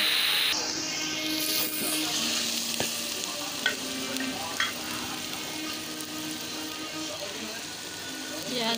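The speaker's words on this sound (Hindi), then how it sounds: "प्याज को ब्राउन होने देंगे" Onions frying in a pan for eggplant bharta give a steady, loud, continuous sizzle throughout, with a few brief clinks from stirring over the hiss.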